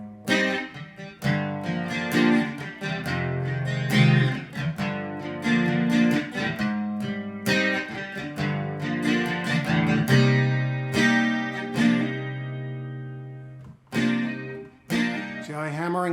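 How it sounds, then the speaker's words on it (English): Guitar playing the intro of a song slowly with hammer-ons, single notes and chords ringing close and clear, with short pauses between phrases and no talk. "So the intro sounds like this when you play it."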